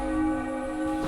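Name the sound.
bells ringing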